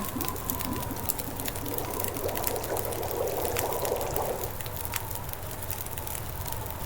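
Water boils over a fire in The Long Dark survival game, a steady bubbling and pouring rush with a crackling fire texture, moderately loud and with no voices.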